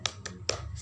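Three sharp, close hand claps from a teacher leading a classroom cheer ring out in a quick, uneven rhythm, each one crisp and brief, alone with no talk.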